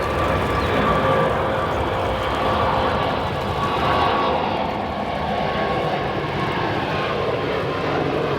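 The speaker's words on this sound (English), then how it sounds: "Air France. Airbus A350-900 that's going to be departing runway 28 right," An Air France Airbus A350-900 departs runway 28 right at O'Hare with a loud, continuous jet-engine roar that swells and then eases slightly as it moves away, heard from close range.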